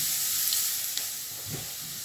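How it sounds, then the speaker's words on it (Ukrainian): Carrots stewing in a pan for a pearl barley and pickled cucumber soup, a continuous bright sizzle with faint taps of stirring and a soft scrape near the end. "Ось так постійно помішуючи, доводимо морку до готовності."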